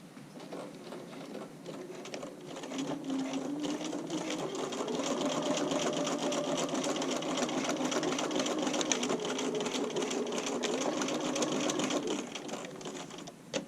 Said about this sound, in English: now I'm going to take it over to my machine, and so with a straight stitch, I'm going to back tack at the top